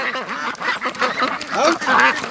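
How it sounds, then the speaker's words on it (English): Ducks and newly hatched ducklings quack in a rapid, overlapping chatter, loud and close, with a brief human voice mixed in. "Oh man, little ducks."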